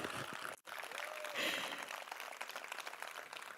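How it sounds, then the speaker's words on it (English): An audience at the live launch of the Nissan Gravite applauds, a dense wash of clapping from many hands with a brief dip early on, then sustained and fairly loud to the end. "Let's have a big round of applause."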